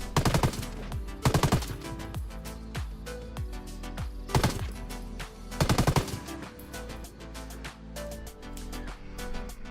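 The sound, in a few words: Stoner A1 machine gun firing in Ghost Recon Wildlands video game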